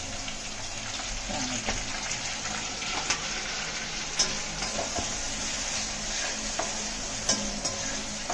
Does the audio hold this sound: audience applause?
no